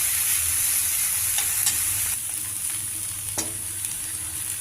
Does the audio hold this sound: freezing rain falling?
no